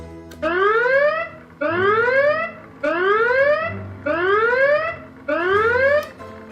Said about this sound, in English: Okay, zombie alarm, simple enough.